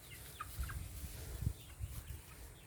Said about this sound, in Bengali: ও আমার মুরগি তার 6টা বাচ্চা তারা খুব সুন্দর ঘোরাঘুরি করে